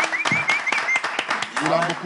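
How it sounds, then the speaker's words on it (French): An audience applauds at a show with sharp, fairly close hand claps, while a voice keeps talking over the clapping throughout. "Je voudrais qu'on l'applaudisse pour lui dire merci"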